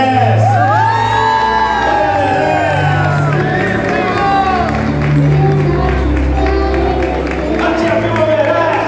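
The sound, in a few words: applause and cheering at fifteenth birthday party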